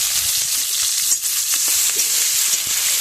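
Chopped onion and crushed garlic frying in hot oil, giving a steady, close, loud sizzle throughout with faint stirring clicks.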